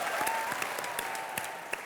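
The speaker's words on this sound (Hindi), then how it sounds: "एक बार जोरदार तालियां हो जाएं" Studio audience on a comedy entertainment show breaks into loud applause, a dense, steady crackle of many hands clapping throughout, with a faint voice under it.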